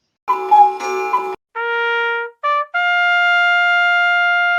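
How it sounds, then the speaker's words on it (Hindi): A trumpet plays a short fanfare of the kind once heard before films: three clean, bright notes, the last held long and steady. A brief, rougher sound comes just before the first note. "हाँ, यह ट्रम्पेट की आवाज है।"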